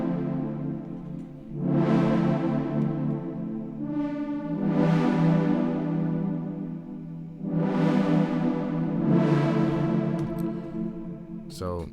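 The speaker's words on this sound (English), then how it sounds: "I opened up Omnisphere and pulled up this patch called Analog's Triumphant Return" Bright synth chords from the Omnisphere patch Analog's Triumphant Return, built on saw waves, four sustained swelling chords with sweeping filtered highs, played alone.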